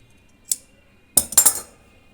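Scissors snip thread after hand stitching a hem: one short, crisp metallic snip, then a quick cluster of three close snips a moment later, near and clear in an otherwise quiet room.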